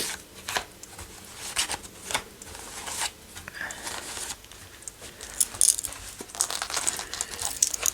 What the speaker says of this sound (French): on va prendre l'oracle de Béline. Donc, je vais faire 3 tirages